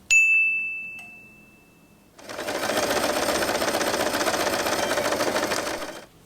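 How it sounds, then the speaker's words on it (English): A ringing ding fades out, then a sewing machine starts and runs steadily stitching fabric for about four seconds, close and loud with a fast mechanical rattle, stopping at the end. "Now, with the right sides together, sew the same part once again."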